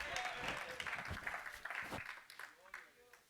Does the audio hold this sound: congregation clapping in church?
yes